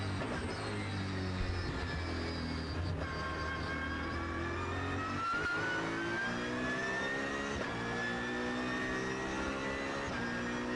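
A GT race car at the 2011 Blancpain Endurance Series round at Magny-Cours accelerates hard, its engine note climbing and dropping back with several quick upshifts, loud and continuous with no talk.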